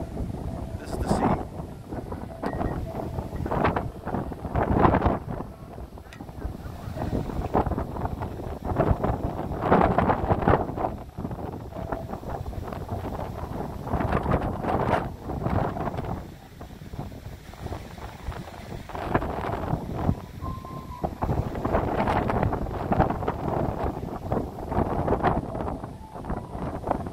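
Strong wind buffets across the upper deck of the Norwegian Encore cruise ship at sea, a constant roaring rush with gusty swells, while someone talks intermittently over it.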